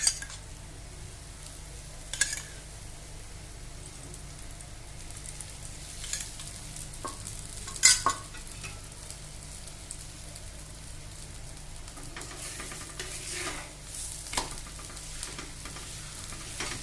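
An aloo paratha fries on a griddle with a soft, steady sizzle and occasional sharper taps and scrapes as it is turned, quiet and close.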